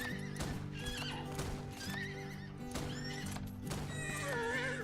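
A horse whinnies and neighs repeatedly in the Outlaws of the Old West video game, high squealing calls over a steady low game hum and clip-clop, moderately close, with no talking.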